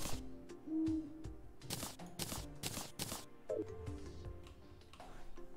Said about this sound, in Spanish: Me pillado un búho